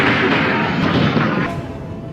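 A big explosion sound effect: a loud, broad roaring blast that fills the clip and slowly decays over about two seconds.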